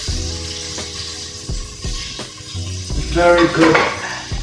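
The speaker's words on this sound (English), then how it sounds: "I'm not sure if you can hear sizzling, but here they are" Air-fried chicken thighs, hot and juicy, sizzling steadily with a dense frying crackle, joined by clinks and handling noise as they are moved, loud and close.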